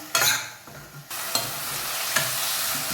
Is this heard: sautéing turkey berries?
yes